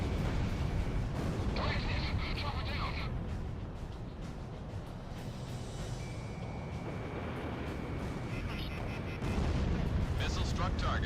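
Missile strikes and explosions from the Ace Combat 6 video game roar as a dense, continuous wall of rumbling blasts with brief higher tones, loud and sustained throughout, with voices in the background.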